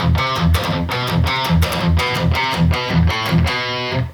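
Distorted electric guitar playing a harmony riff, heavy rhythmic chugging with regular accented hits throughout, loud and close, alone without talk, ending abruptly.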